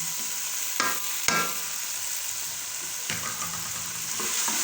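Peas and carrots stir-fried in a pan for Chinese pulao give off a steady, close sizzle, with a few sharp scraping clicks from stirring.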